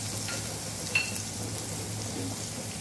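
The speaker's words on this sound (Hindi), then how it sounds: "अब मैं अदरक लहसुन और हरी मिर्च जो है वो डालकर इसे 1 मिनट के लिए भून लूँगी" Ginger, garlic and green chilli fry in a pan with a steady, soft sizzle and occasional stirring clicks, close by and fairly quiet throughout.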